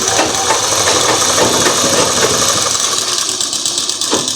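A sewing machine running a plain stitched seam joining two pieces of fabric, a loud, continuous close-up mechanical whirr with a fast rattling rhythm that holds steady throughout.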